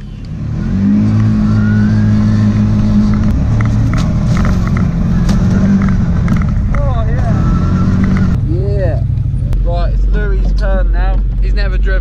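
A buggy's engine drones and revs loudly through a lap, its pitch rising and falling with acceleration, while people talk over the steady motor noise.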